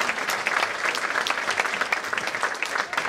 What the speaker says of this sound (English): So round of applause for Emily.